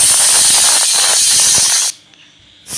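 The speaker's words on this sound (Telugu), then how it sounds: "తర్వాత మూత పెట్టేసి 3 విజిల్ వచ్చేదాకా విజిల్ రానియండి" A pressure cooker whistle blasts a loud, steady hiss of escaping steam while dal cooks, cutting off for under a second before the sharp hiss starts again.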